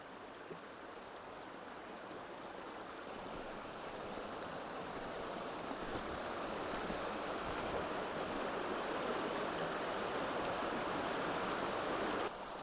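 A mountain stream that holds brook trout flows steadily past willows, a continuous broadband rush of water that stays even and fairly close, slowly growing a little louder, with no voices.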